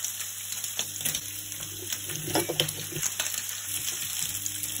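Sausage meat and onions crackle and sizzle steadily in a frying pan, with occasional scraping and stirring clicks from a utensil, close up and without talk.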